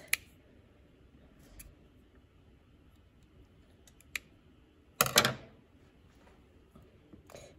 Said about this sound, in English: So I am just going to cut a whole bunch of little strips.